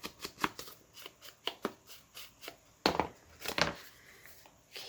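Paper edges being torn by hand for a handmade Christmas mini hinge journal: a quiet series of short, crisp ripping bursts in an irregular rhythm, close up, with two longer, louder tears near the end and no talk.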